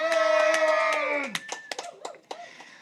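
A few sharp, uneven hand claps for someone named Megan ring out right after a sustained tone fades, loose and scattered rather than rhythmic, with speech nearby.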